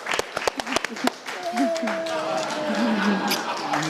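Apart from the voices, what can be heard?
studio audience applause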